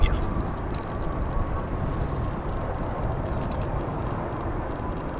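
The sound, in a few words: airliner landing with thrust reversers deployed, O'Hare airport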